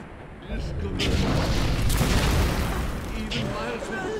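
Exploding buckshot round fired from a shotgun in the BioShock video game, a loud, sustained rumbling blast lasting several seconds with crackling debris, running beneath game noise.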